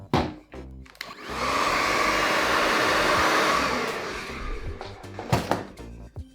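A heat gun or hot-air blower warms green heat shrink tubing over a repaired Turtle Beach headset cable chewed by a kitten, a steady close whooshing roar lasting several seconds, bracketed by brief handling clicks and knocks.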